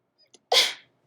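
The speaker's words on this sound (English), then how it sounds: "that was a sneeze" A single sharp sneeze close to the microphone, preceded by a couple of small catching breaths, then silence.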